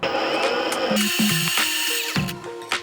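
A cordless angle grinder, a GRAND MSHU 20 BL HS brushless model, runs at its first speed, about 4,000 rpm, its motor whining steadily at a moderate, even pitch, continuously at close range with a few small shifts in tone.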